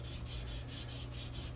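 Hand sanding shapes a wooden bass guitar body, giving a soft, even rasping rub in steady back-and-forth strokes, close and quiet with no talk.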